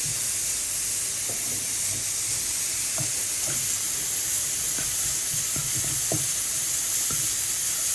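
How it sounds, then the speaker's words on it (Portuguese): Garlic frying in oil in a pan gives a steady, close sizzle and hiss, with scattered soft pops and clicks from light stirring over the constant crackle. "fritar o nosso alho"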